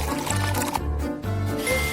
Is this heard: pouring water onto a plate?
yes